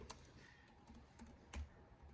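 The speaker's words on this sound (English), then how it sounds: "Let me see if I could type it up." Faint, sparse clicks of a computer keyboard being typed on, a handful of light key taps in a quiet room.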